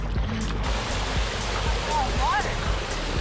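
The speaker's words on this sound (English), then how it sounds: "It's called the spillway." Springtime meltwater rushing over a spillway makes a steady, loud broadband roar that fills the whole stretch without letting up, with a few faint whistle-like tones riding on top near the end.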